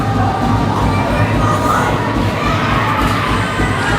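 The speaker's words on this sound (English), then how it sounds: "As the crowd is loud." Loud, dense crowd roar at an ice hockey shootout between IceHawks and Fremont, with high children's shouts and cheering filling the whole stretch at a steady level.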